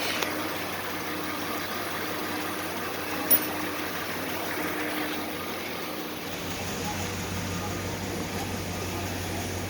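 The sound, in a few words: 5.7 Hemi engine starting and idling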